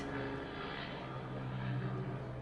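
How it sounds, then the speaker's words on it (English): An airplane passes overhead as a steady, broad, low rumble that stays fairly even throughout, heard alone without talking. "excuse me, airplane, do you mind?"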